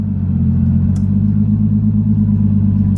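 A turbocharged drift car engine droning steadily at a low, heavy rumble from inside the cabin while driving, constant and loud, with a couple of faint clicks and no talking.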